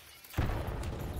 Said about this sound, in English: I'm gonna throw a frag